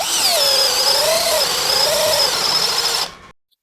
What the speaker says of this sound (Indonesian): Balok meranti, ini bor kipas 13 mili,